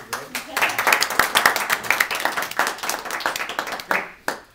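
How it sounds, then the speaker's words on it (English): An audience at a persuasive-speech session claps for a speaker, uneven bursts of individual hand claps with gaps between them, tapering off near the end, with some voices mixed in. "Let's give a round of applause to Greg."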